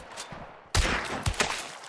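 Gunshots in Hunt: Showdown, a Western-style shooter: a sharp shot cracks out after a quiet lead-in, followed by two more reports in quick succession that ring out with a lingering tail, with no talk.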